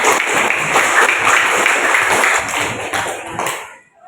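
A classroom of students claps for each group, loud, close, dense applause that runs steadily for a few seconds before tapering off and stopping abruptly.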